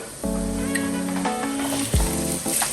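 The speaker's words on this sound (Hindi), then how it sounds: "ये शामिल कर दूंगी, इन्हें हम सौते करेंगे।" Boiled spaghetti being sautéed with ginger and butter in a pan, a steady close sizzle with light stirring scrapes and a brief clatter near the end, no talking.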